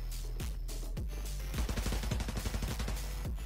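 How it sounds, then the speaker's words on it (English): Bursts from a Sumi SMG in the Arena Breakout video game, a few spaced single shots followed by a rapid rattling burst, then another lone shot, moderately loud over a game soundscape. "The Sumi SMG."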